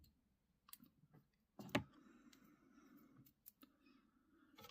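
Scissors snip the tag end of fly-tying thread with a few quiet, close clicks, one sharper cut among them, in a nearly silent room.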